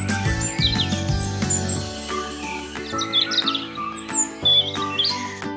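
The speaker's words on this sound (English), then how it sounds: "Robins sing beautiful tweet-tweet songs to find friends and protect their homes." Robin song rendered as bright chirps and tweets over a steady, tinkling children's music backing, the bird notes light and scattered above the melody throughout.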